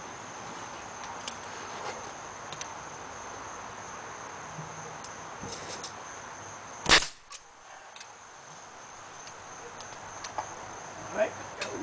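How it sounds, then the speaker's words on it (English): A staple gun fires a single staple into the wooden cabinet of an Atari Red Baron arcade machine during restoration: one sharp, loud snap near the middle, standing out against a quiet background hiss. "Staple gun here."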